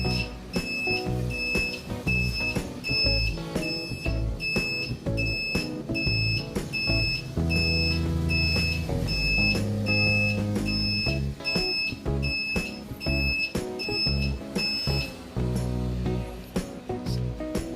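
Buzzer wired to a motorcycle's turn signal, beeping steadily in a regular on-off rhythm for left and right indicators, loud and close with no talking.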